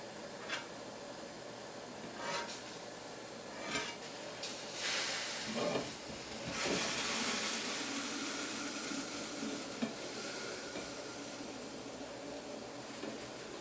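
A pastilla sheet being dabbed onto a hot pan, giving soft intermittent sizzles and hissing bursts over a faint steady background, with light dabbing contacts repeating every second or two.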